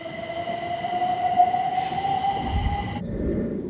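A train pulls away from Alexandra Palace on the East Coast Main Line, bound from Brighton for Cambridge, with a steady high tonal whine and rumbling wheels that shift and drop near the end, loud and close.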